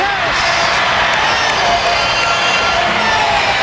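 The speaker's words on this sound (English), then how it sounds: "look at the crowd. They have absolutely been delighted." A large crowd cheers and roars loudly and continuously at a 1998 Harlem Globetrotters exhibition basketball game, celebrating a closing dunk in their 20,000th game, with shouting voices mixed into a dense, steady wall of arena noise.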